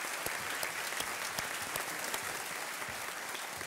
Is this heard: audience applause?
yes